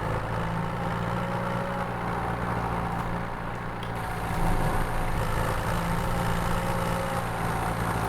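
A tractor engine in Farming Simulator 2017 drones steadily with a low, heavy rumble and a faint whine, growing a little louder partway through, with no speech.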